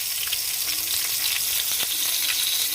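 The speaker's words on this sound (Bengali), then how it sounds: "এটা একটু ঢেকে ঢেকে ভাজতে হবে আমাদের" Crab sizzling and frying in oil in a pan during village cooking, a steady dense hiss filling the whole clip with small pops and a few stirring clinks, no voices.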